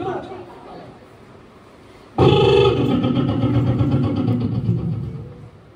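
A voice imitates a motorcycle engine starting during an outdoor street play: quiet murmuring gives way to a sudden loud, rough sputtering burst that keeps rumbling and chattering for several seconds.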